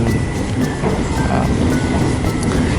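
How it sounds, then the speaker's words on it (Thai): A train runs across the wooden cliffside trestle at Tham Krasae, a loud continuous rumble and rattle of wheels on the track with a faint high whine, no talking. "เพราะว่ารถจะวิ่งไปบนสะพานไม้นะฮะ"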